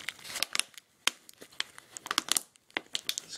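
A plastic bag crinkles and rustles as it is fitted over a bottle neck and a cap is screwed on, giving irregular close, sharp crackles with brief quiet gaps between bursts.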